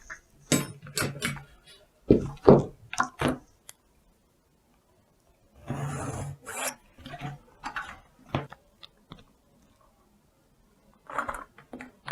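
Pencil or marker drawing dress pattern lines on paper for a round-collar one-piece dress, heard as short scratchy strokes and rubbing in bursts separated by quiet pauses, close by.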